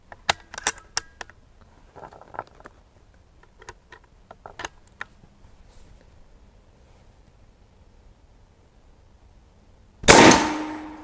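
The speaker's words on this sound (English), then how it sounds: "Let's shoot it again and see what we get." A Western Airguns Bush Buck .45 big bore air rifle fires a single loud, sharp blast near the end, preceded by a quiet stretch of scattered light clicks and handling noises.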